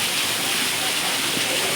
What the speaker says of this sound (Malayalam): വെള്ളച്ചാട്ടം, നല്ല വെള്ളച്ചാട്ടം